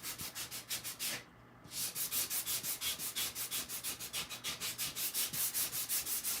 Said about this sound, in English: Always go in the same direction when you're sanding. Go with the wood grain.